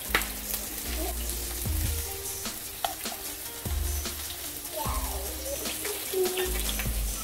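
Beef burger patties fry in a pan over medium-low heat, giving a steady, close sizzle with soft, recurring low thumps and light scraping clicks throughout.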